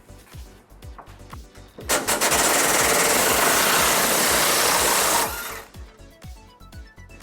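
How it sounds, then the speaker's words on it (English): A power tool with an 18mm socket removes a frame bolt near the rear of a 2006 Ford Ranger for a trailer hitch install, a loud continuous whirring burst of about three seconds between quieter clicks and ratcheting. "we're going to remove this bolt towards the rear of our frame using an 18mm socket"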